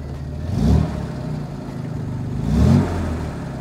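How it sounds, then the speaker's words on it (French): A vintage car engine, compartment open, cranks and catches, then idles with a steady low rumble, revving briefly twice in louder bursts, close by and without talk. "On va vous faire un démarrage de l'auto avec le compartiment moteur ouvert pour que vous puissiez apprécier le bruit"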